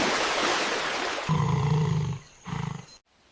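A honey badger snarls and growls fiercely while wrestling a snake in muddy water, a rushing wash of splashing noise giving way to two loud, rough snarling bursts up close before abrupt silence.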